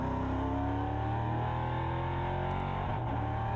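NASCAR race car at the Valencia NASCAR Fest 2018 circuit, its engine droning steadily and loud, pitch holding with slight shifts as it powers along the track, no voices.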